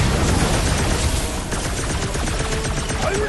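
A sustained barrage of gunfire and blasts roars continuously during combat in the Guardians of the Galaxy video game, with dense booming bursts and crackling impacts filling the whole stretch at close range.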